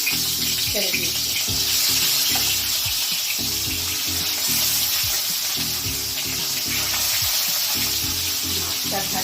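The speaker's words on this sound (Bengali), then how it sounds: "দেখুন তেল গরম হয়ে গেছে, এবার আমি মাছটা দেব। দেখুন একে একে আমি মাছ ছেড়ে দিচ্ছি।" Fish pieces dropped one by one into hot oil set off a steady, close hiss and crackle of frying, sustained throughout with small bursts of popping.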